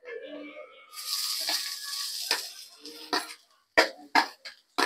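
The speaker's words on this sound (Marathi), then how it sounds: "आता आपल्याला कांदा भाजायचा आहे।" Onions frying in oil in a pan while making mutton masala curry, a steady sizzling hiss with a few louder crackling bursts toward the end.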